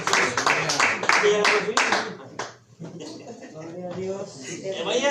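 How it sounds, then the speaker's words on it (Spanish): A church congregation claps in a quick, rhythmic burst of applause during a sermon, then the clapping fades under a voice talking over it. "den un fuerte aplauso al Señor"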